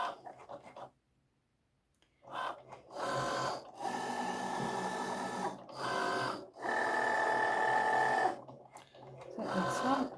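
An electronic cutting machine feeds in card and cuts it, giving a close, steady motorized whir in several long bursts separated by brief pauses, with a faint low hum running underneath.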